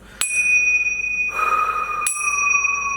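Two bright bell chimes ring out, each a sharp struck ding with a long sustained ringing tone, the second following about two seconds after the first, loud and alone with no talk.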